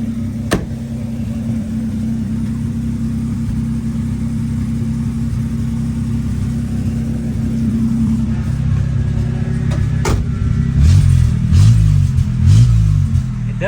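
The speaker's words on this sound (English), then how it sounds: "It does have a bad muffler." An old barn find car idles a little high with a bad muffler blown out at the front, a loud steady low rumble throughout. It swells into rougher throaty pulses near the end, and no one talks.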